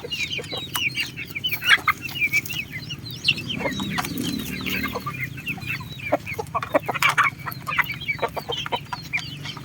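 Chickens cluck busily around a large broodcock in a free-range breeding pen, with overlapping sharp clucks and calls close by over a low background hum.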